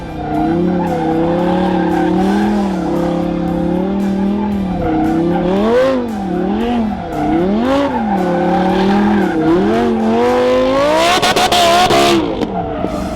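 A BMW M4 spins donut drifts, its tires squealing loudly and continuously for over ten seconds with the pitch swooping up and down as the car circles, the engine revving beneath and a harsher burst of screeching near the end.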